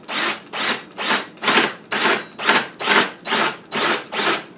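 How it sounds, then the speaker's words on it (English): A Milwaukee Hole Dozer hole saw on a drill bores into an old wooden door, making ten evenly spaced rasping cutting bursts, loud and close, with short pauses between them. "so set your drill clockwise."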